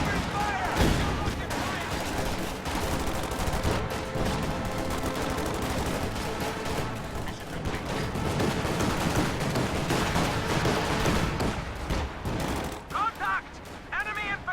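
Dense, continuous gunfire from rifles and machine guns rattles through an infantry battle in a multiplayer combat video game, with bursts overlapping almost without pause while a voice calls out over the noise.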